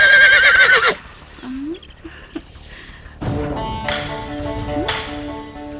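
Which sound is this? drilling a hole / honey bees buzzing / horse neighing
horse neighing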